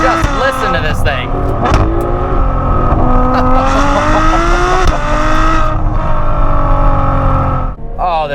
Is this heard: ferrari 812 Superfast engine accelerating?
yes